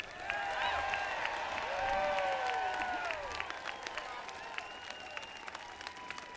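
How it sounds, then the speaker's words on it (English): At Michigan's 2019 gubernatorial inauguration, a standing audience applauds in a sustained, dense clatter of clapping. A few whistles and cheers rise above the applause, which gradually thins toward the end. "We see folks standing, applauding, including former Governor Blanchard."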